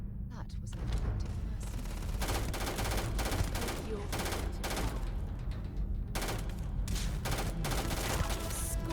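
Enemy gunfire in the sci-fi shooter Starfield crackles in rapid bursts of automatic fire and overlapping shots, loud and nearly continuous, with brief gaps between volleys and a low rumbling bed beneath.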